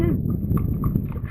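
Hooves of Nini, a cob being ridden out toward a village, clop steadily underfoot beneath continuous close talking, with a second horse nearby; the footfalls stay partly masked by the voice.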